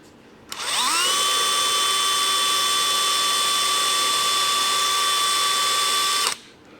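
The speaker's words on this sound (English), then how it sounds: "we're going to do our spotting drill first and then the 1/4 inch." A spotting drill spins up and bores into hard metal for a hydraulic motor adapter with a steady high-pitched whine for several seconds, then stops abruptly.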